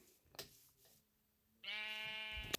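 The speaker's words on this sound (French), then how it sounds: "je vois 3 moutons de la même couleur" Sheep in the video game Minecraft give a single clear, wavering bleat near the end, preceded by faint clicks and quiet game sounds.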